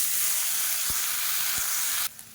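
Three chopped medium tomatoes sizzle in a teaspoon of hot oil, a steady close hiss of frying with a couple of soft stirring knocks, cutting off abruptly near the end.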